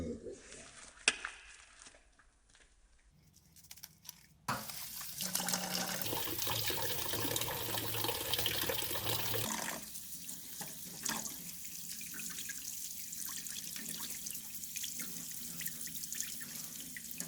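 Running tap water at a sink while hands are washed clean of air filter oil, a steady rushing splash after quiet handling sounds, close and continuous with shifting flow as hands move under the stream.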